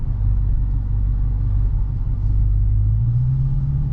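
Dodge Challenger SRT Demon engine rumbling low and steady at idle as the car creeps out of a parking lot, a deep, loud drone that rises slightly in pitch near the end.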